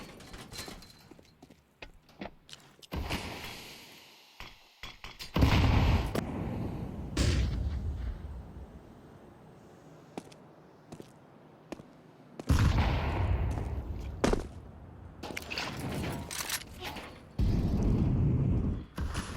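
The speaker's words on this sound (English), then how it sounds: "some shots being fired towards Kyosuke, just through that smoke" Gunfire in a Counter-Strike match, with rifle shots fired through a smoke grenade on a map area near a silo and garage, comes as several loud bursts of rapid cracks separated by quieter gaps and scattered clicking and footsteps.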